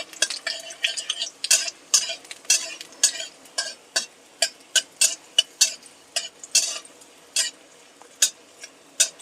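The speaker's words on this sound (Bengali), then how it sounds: "ফোড়নটা একটু ভেজে নিচ্ছি" Whole spice tempering (phoron) with garlic frying in a pan, crisp irregular spattering pops and scraping stirs in quick succession, close and fairly loud, with no talk.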